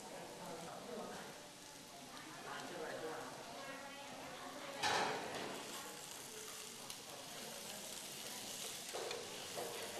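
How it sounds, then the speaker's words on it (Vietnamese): Potatoes and tomatoes stir-frying over low heat in a pan, a soft continuous sizzle with occasional scraping bursts as the food is turned, beneath someone talking. "thì mình xào cái lửa nhỏ thôi để cho nó từ từ nó chín"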